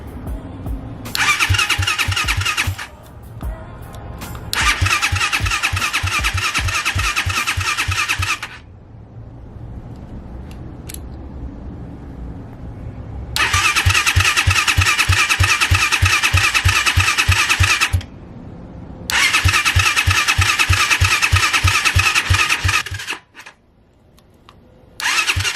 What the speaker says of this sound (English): we'll see if we can get it to turn over